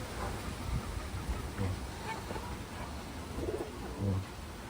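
Taiwan pigeons in a loft cooing softly with low, repeated throaty calls over a steady, noisy background.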